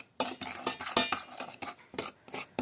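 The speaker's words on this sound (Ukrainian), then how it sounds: "Розмішуємо аби цукор розмішався з крохмалем і какао" Sugar, starch and cocoa stirred with a utensil in a bowl, giving a series of close, sharp clinks and scrapes in an uneven rhythm, with no voices.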